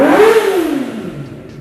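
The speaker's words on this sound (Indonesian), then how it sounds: "Gue akan coba nyalain, kita dengerin suara knalpotnya." A 2018 Kawasaki Z250 motorcycle's engine and exhaust rev loudly close by, then the pitch falls away as the revs settle toward idle, with no talking.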